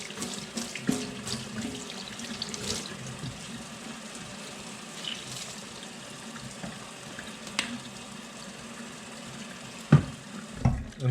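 Tap water runs steadily into a sink during cleaning, a continuous close splashing hiss with occasional knocks and clatter near the end.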